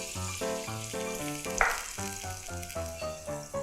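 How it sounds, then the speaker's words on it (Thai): An egg fries in butter in a pan with a steady, soft sizzle that sits beneath louder melodic music, plus one brief sharper crackle partway through. "ใส่เนยลงไปจะช่วยให้มันหอมขึ้นนะคะแล้วก็ใส่ไข่ลงไปเลยค่ะ"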